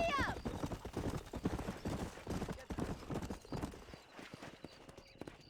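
Horse hooves clip-clop in a steady galloping rhythm while riding in Red Dead Redemption, with a brief whinny near the start, and voices talk over the hoofbeats throughout.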